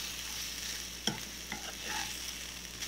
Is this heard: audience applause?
no